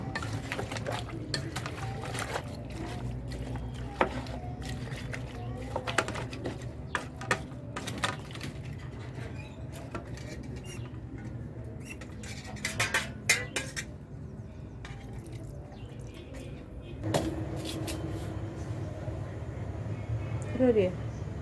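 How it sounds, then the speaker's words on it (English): A spoon stirs a white soup mixture in a pot, repeatedly clinking and scraping against the metal in an uneven rhythm. Quieter background sounds run underneath the close stirring. "So I have to stir all together and allow it to mix before putting it on the fire."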